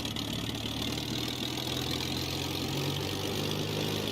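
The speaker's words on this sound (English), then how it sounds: "Let's rev it up" A Spitfire Mk1A piston engine in Microsoft Flight Simulator runs at a steady, even drone with a low rumbling undertone, holding constant throughout with no voices.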